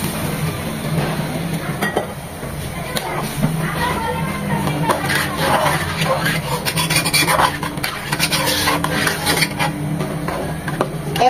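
Boiled water poured onto rice frying in a pot for chicken biryani: a steady, close rushing hiss with scraping and sizzling that runs unbroken for about eleven seconds.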